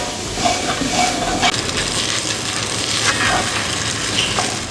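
Onions caramelizing in a pan with garlic and thyme added, a steady close sizzle and hiss of frying with faint stirring scrapes throughout, no voices.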